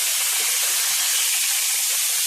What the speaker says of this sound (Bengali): এখন আমি শাকটাকে ভালো করে নেড়ে চেড়ে নেব।